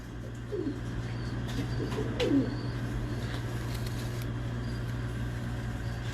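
Pigeons coo softly at intervals over steady background noise in a keeper's loft, with a few faint chirps and a distant car passing.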